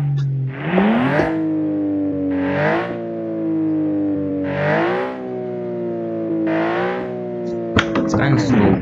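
A Boxer-6 engine in an 800 hp British supercar, built in a car-building game, revs in four rising, whining pulls with short pauses between them, loud and close, and a burst of rough noise at the end.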